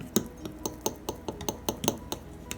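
A whisk or spoon stirring funnel cake batter with salt in a bowl, giving a steady run of light clinks against the bowl roughly every fifth of a second, close and fairly soft, with no talking.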